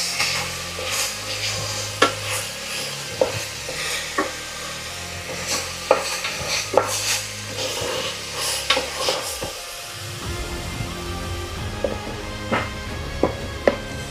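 Slit green chillies frying in a pan for boti curry, with steady sizzle under repeated stirring and scraping clicks, then a brief lull before the frying hiss rises again.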